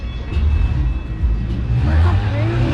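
A car rolls past on a San Diego street, its engine and tire noise swelling and fading over a steady low city rumble, with a faint voice briefly underneath.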